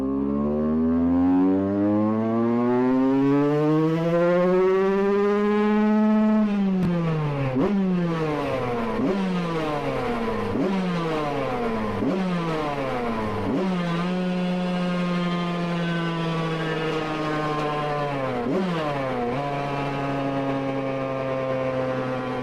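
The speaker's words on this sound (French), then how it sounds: "moto de retour sur le banc, roulement changé. On va voir tout de suite si c'est mieux ou pas" Yamaha YZ 125 two-stroke motorcycle engine on a test bench after a bearing change, revving up in one long sweeping climb, then a run of sharp repeated throttle blips and drops, loud, close and continuous with no talking.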